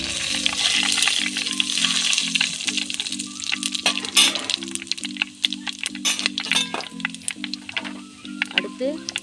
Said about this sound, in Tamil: கடுகு பொரிஞ்சதும் கிராம்பு, பட்டை, சோம்பு இது மூணையும் இப்போ நம்ம இது கூட போட்டுக்கலாம்.